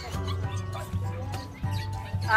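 A two-year-old Rottweiler barks in short, repeated bursts at a pet market, with voices talking nearby.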